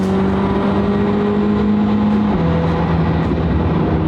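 A Koenigsegg Jesko hypercar drives with a loud, steady engine drone close by, its pitch holding then dropping a step partway through as the car shifts, with no voices.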